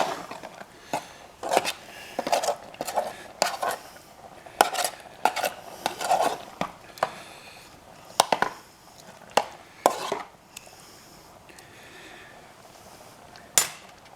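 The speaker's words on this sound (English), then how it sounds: "Now stir this up in here." Spaghetti with sauce is stirred in a metal canteen cup, producing repeated sharp clinks and scrapes of a utensil against the metal in an irregular rhythm, close and fairly loud with quiet gaps between.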